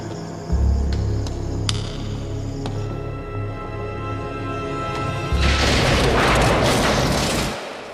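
A grenade explodes in a war film, a deep low boom swelling into a dense, roaring blast and rumble after a stretch of tense low drone with sharp clicks.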